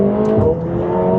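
McLaren 720S supercar accelerating, a loud, close engine drone with a steady tone through a short burst.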